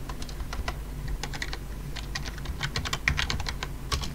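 Rapid typing on a computer keyboard, close and clear, with irregular bursts of clicking keys and short pauses throughout.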